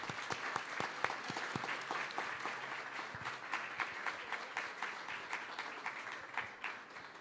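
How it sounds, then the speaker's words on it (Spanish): An audience at a book presentation gives sustained, fairly faint applause, an even patter of many hands clapping at a distance and slowly tapering. "Un aplauso, por favor, para ella."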